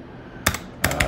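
A terminal command is typed on a computer keyboard, two quick bursts of close, crisp key clicks separated by a short pause, with no talking.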